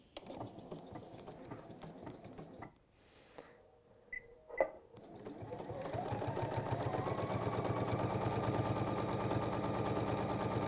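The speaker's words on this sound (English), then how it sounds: "then you can just finish off sewing, stitching that in place" A sewing machine stitches fabric at a quarter-inch seam, starting after some quieter handling and then running as a steady, fast, rhythmic mechanical whir close by, with no talking.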